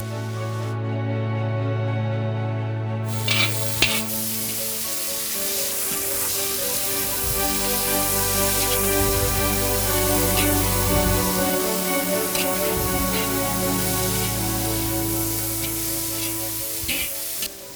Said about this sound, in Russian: Для того, чтобы лук хорошо пожарился